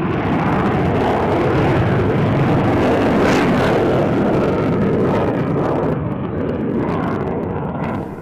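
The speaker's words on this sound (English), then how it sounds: "Commandant Thys is the new Belgian Air Force F-16 solo display pilot" A Belgian Air Force F-16 jet roars through a solo display at an airshow, a loud continuous broadband engine rumble with wind buffeting on the microphone, steady throughout before easing slightly at the end.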